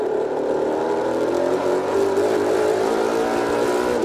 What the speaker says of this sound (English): So Cameron locked up the brakes, shot up the track, and on his way back down, found Mark Dilley